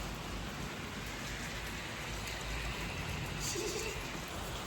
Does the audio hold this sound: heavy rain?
yes